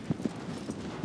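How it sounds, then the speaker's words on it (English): Horse hooves clip-clop at a steady walking pace in the video game Shadow of the Colossus, a handful of soft, low thuds heard fairly close with no talk over them. "Oh, I have a horse"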